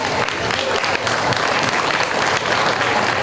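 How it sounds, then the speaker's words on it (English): Loud, sustained applause from the crowd at the Mason County Fair lamb show, a thick continuous wash of clapping that holds steady throughout. "so let's give them a round of applause"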